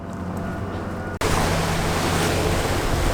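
Heavy ocean surf and strong wind roar loudly and steadily at sea, a broadband rush that cuts out for an instant and returns even harder, with a low rumble underneath.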